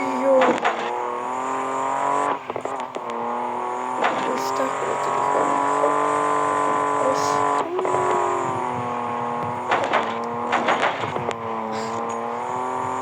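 A car drifts in the racing video game Street Pro with a continuous, droning engine tone. Tyre screeches and sharp bursts come and go throughout at steady, fairly loud volume.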